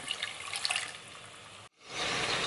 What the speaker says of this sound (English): I'm gonna add a half a cup of water to these onions since they've cooked for 6 to 8 minutes and got translucent